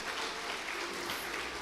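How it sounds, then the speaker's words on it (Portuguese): A church congregation applauds the Lord during a Portuguese-language worship service, with steady, dense clapping filling the room throughout, fairly even in level with no pauses. "Será que você pode aplaudir o Senhor Jesus?"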